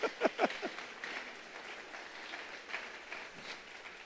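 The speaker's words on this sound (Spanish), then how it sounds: "Dale un aplauso al Señor," A church congregation applauds during a Spanish-language sermon. The clapping is faint and distant, with a few sharper claps at the start before it settles into a soft, steady patter.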